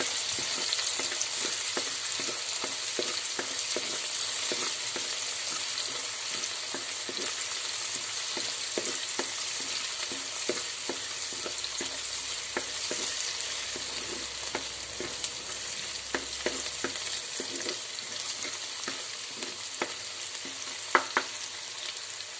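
Carrot upma ingredients sautéing in a pan, Kerala style, a continuous close sizzle with regular scraping ticks of a spoon stirring, steady and unbroken throughout with no voices.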